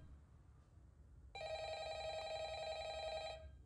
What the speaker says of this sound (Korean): 뭔가 전화를 하네.